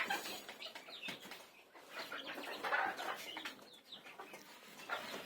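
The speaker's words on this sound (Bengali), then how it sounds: "মুরগিগুলা নিজেদের মধ্যে প্রতিনিয়ত ঝগড়া করতে থাকে" Chickens on a poultry farm cluck and squabble continuously among themselves, a busy, moderately near flock chorus with scattered flapping and no speech.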